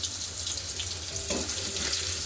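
Chopped onion dropped into a black cumin (nigella) tempering in hot oil for a tilapia mustard-poppy curry, giving a steady hissing sizzle that swells a little partway through, with no talking.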